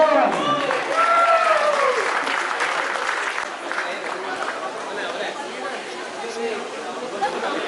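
An audience at a reunion ceremony claps and cheers for friends receiving medals, with a voice speaking over the start and crowd chatter mixed into sustained, gradually fading applause.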